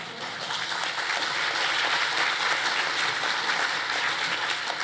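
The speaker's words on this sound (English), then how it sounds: "Definitely worthy of applause" An audience applauds a businesswoman, a chartered civil engineer, at an award event: continuous, even clapping from a large crowd, steady and fairly loud throughout with no talk over it.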